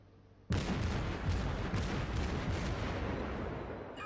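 The cruiser Omaha in World of Warships fires shells in rapid succession, a dense, loud barrage of booming gunfire that starts abruptly and rolls on steadily before tapering slightly.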